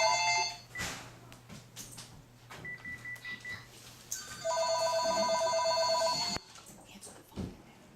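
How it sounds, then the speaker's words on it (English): Mobile phone ringtone sounding indoors, a loud electronic melody of repeated tonal beeps over several seconds before cutting off abruptly, with brief rustling and noises afterward. "that's my phone ringing"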